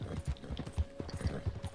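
Horse hooves clip-clop in a steady, close, rhythmic gait in the video game Red Dead Redemption 2, with a faint steady tone running underneath.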